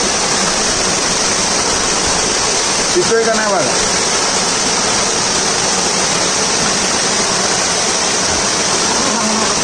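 The Sadashivgad waterfall pours down with a dense, steady rushing roar, loud and close, and it swamps a brief exchange of voices partway through.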